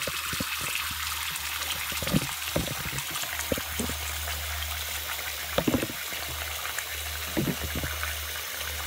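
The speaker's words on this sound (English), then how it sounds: "I'm just gonna put some more water in here." Water trickles and pours into a container while makeup brushes are cleaned, a steady splashing stream with a few sharper clunks, close by and alone.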